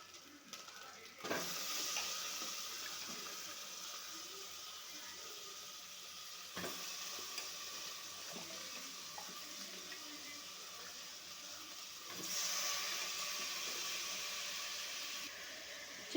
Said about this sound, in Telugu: చికెన్ వేసుకోవాలి